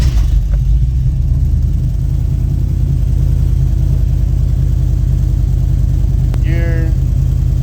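An old Mopar engine runs at a steady, loud, close rumble, slightly lean, with a brief high squeak near the end and no voice over the noise.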